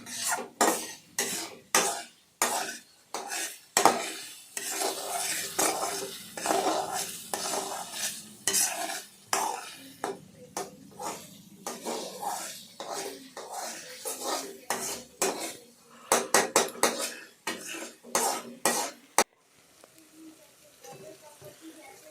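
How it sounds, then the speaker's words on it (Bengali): Spoon stirring fish curry (reta fish rasa) in a metal pot, a run of quick scraping clinks and knocks repeating through most of the stretch with light sizzling underneath, close and fairly loud, then quieter at the end. "আমি ভালো করে নাড়াচাড়া করলাম"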